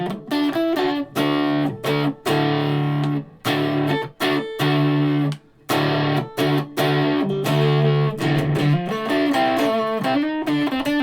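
Electric guitar, a Squier Stratocaster, played through a Joyo distortion pedal, with heavily driven chords and riffs in choppy bursts and short gaps, loud and close with no talking.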